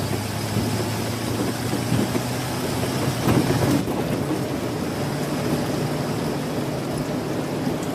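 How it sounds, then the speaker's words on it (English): Heavy rain pours steadily in a dense, loud hiss on an island, with a deep roll of thunder swelling near the middle and a faint engine rumble underneath. "They don't have rain like this in Boston."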